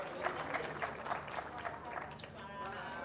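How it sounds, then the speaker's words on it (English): Audience at a leadership summit in South Africa breaks into a round of applause, steady clapping spread across the room with some crowd noise and voices mixed in throughout. "Let's give a big round of applause."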